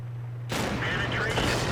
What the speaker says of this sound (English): he is firing HE out of that cannon